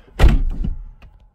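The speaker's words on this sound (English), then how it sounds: "I'm gonna close the door so it'll stop beeping" A single solid thunk of a Nissan 370Z car door shutting close by, with a brief rattle trailing off afterward.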